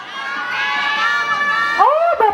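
An audience at the Miss Thailand International swimsuit pageant shouting and cheering for contestants' numbers, a loud continuous crowd roar that breaks off into scattered individual shouts near the end.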